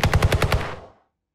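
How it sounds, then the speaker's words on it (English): A short burst of about six rapid AK-47 shots, a gunshot effect built with the Krotos Weaponiser plugin, each crack punchy with a low thump, followed by a fading reverb tail and silence. "Going back to the AK-47, you can hear the initial onset, the body, giving needed weight to the effect,"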